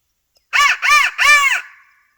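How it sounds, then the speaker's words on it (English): Three loud, harsh crow caws from a turkey-hunting crow call, in quick succession, close and clear, the last one trailing off slightly. "A crow call works the best where I live."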